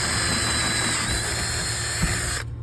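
A power drill with a 3/8 bit whines steadily at close range, enlarging a hole in a security door, running continuously for a couple of seconds before cutting off abruptly.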